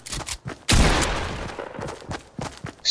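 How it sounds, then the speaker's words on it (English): Gunfire in the video game Fortnite: a few sharp single shots, then a loud sustained burst that trails off, followed by more scattered cracks, close and punchy with no voices over it. "Stop shooting."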